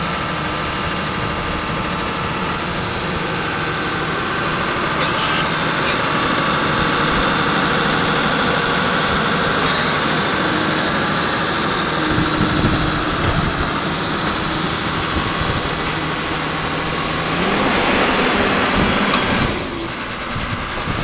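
A 2004 Caterpillar D5G XL bulldozer's diesel engine idles steadily for the whole stretch, a close, continuous low rumble with slight surges and rattles and no talking.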